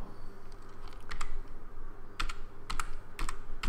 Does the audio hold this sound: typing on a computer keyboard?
yes